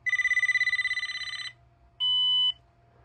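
An early Uniden TRU series cordless telephone base station ringing: a rapid electronic warbling trill for about a second and a half, a pause, then a short steady electronic tone, clear and close in a quiet room.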